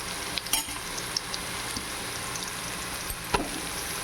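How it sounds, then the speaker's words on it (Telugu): Ginger and garlic frying with cashews in hot oil for mutton biryani, a continuous close sizzle with a few sharp clinks of a stirring spoon. "ఇప్పుడు అల్లం తెల్లగడ్డ వేసుకుందాం"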